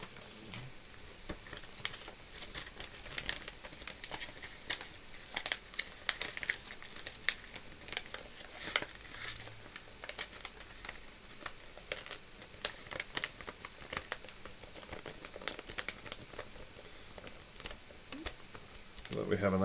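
Paper being creased and folded by hand, soft crinkles and taps scattered close up through the whole stretch, faint and under a speaking voice.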